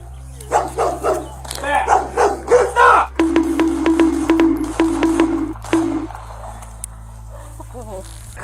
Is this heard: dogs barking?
yes